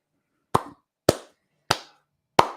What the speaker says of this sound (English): Slow clap for aggressively relaxing